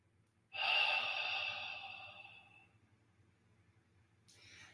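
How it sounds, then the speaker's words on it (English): A single deep, slow breath, either a long audible inhale or exhale, swells suddenly and fades over about two seconds in a quiet room during a shiatsu and energy work class. A softer breath follows near the end. "let's just hold that lower burner area and take a couple of nice breaths in."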